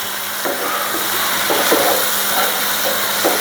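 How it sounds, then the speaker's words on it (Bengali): Spice masala with turmeric and chilli fries in a pan for a koi fish and tomato bhuna, giving a loud, steady hiss with occasional light scrapes of stirring. "মশলাটা কষাই নিই।"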